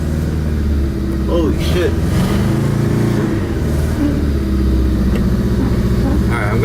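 A Honda hatchback project car's engine revs under loud nearby talk, with a rough, steady mid-range drone and a few rising pitch sweeps.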